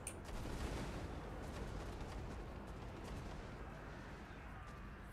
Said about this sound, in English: Oh right, they're throwing the bombs up there too.